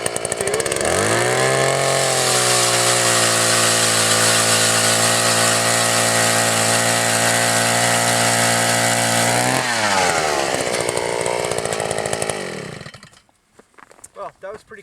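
Two powered ice augers, a Ridgid and an Eskimo Mako, drill through ice together in a loud, sustained engine whine close by. The pitch shifts partway through, then both cut out and leave scattered faint knocks.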